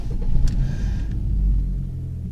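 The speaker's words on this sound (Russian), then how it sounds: "но у нас троит двигатель" A black Toyota's misfiring engine running with a low, uneven rumble, close and steady for a couple of seconds, with a brief higher whine near the start.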